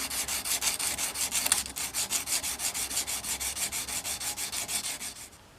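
Rhythmic back-and-forth strokes of 150-grit sandpaper wrapped on a round dowel stick, sanding the metal of a square-shank machinist screwdriver during restoration. The strokes are even and steady, moderately quiet, close, and there is no speech.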